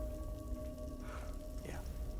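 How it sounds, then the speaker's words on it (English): A continuous wash of rain in Silent Hill 2 Remake patters steadily, with faint tonal game sounds beneath and a brief murmur of voices partway through. "A stroll in the rain."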